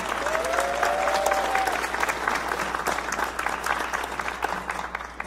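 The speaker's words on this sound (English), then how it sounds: "if we could give her a round of applause" An audience at a school jazz night gives warm, sustained applause for the accompanist, a steady mass of clapping with a faint whistle rising early on.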